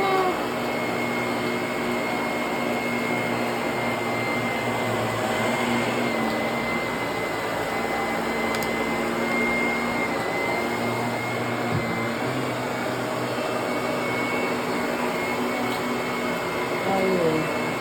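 A vacuum cleaner runs steadily and loudly while cleaning the inside of a car, a constant close-up drone with a faint whine, lasting throughout without pause.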